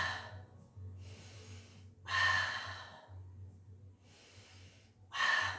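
Close, audible breaths from someone holding a pose during a mat Pilates exercise: several slow, airy inhales and exhales in a steady rhythm, heavier sighing releases standing out, over a low constant hum.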